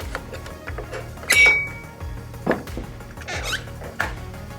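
A pin spanner pushes ballast weights out of a Blueye X3 underwater ROV, making sharp squeaks and soft knocks at intervals over a steady background hum.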